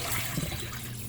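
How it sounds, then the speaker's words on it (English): Water pouring into the tub of a Bosch dishwasher during troubleshooting, a steady rushing fill that stays constant and fairly loud for about a second, with no talking. "Gonna fill up water in here."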